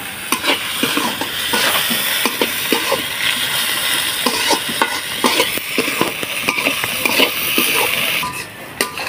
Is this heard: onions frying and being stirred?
yes